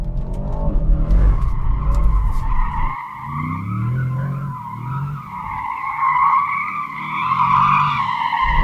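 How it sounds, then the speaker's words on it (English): Car tyres squeal and skid in a long, wavering screech as a vehicle slides with stability control off, engine rumbling underneath, loud and close. "Let's see how easy this car is to slide with the stability off."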